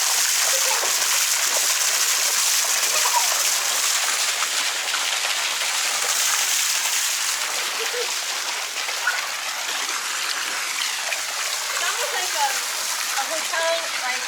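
Constant rushing splash of water fills a newly relined swimming pool as a person dives in, loud and close, with faint voices underneath and no single clear plunge standing out.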